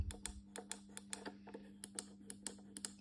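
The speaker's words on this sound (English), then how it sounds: "And now the buttons are working better." Air suspension switch buttons on a Porsche Cayenne 955 centre console pressed again and again in a quick, irregular run of crisp plastic clicks, close and quiet over a faint steady hum.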